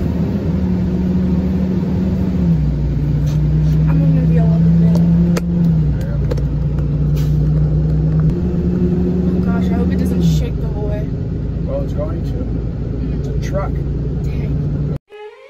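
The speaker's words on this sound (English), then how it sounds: "We're driving a truck! Yeah. Yes! 26-foot Penske box truck." A 26-foot Penske box truck engine drones steadily from inside the cab while driving, a loud low hum that shifts pitch with gear changes, with people talking over it before it cuts off abruptly.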